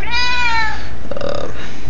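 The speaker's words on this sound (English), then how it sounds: "Cat's trying to get my attention here." A house cat lets out one loud, close meow that bends downward, followed by a shorter, softer second call, with no other sound around it.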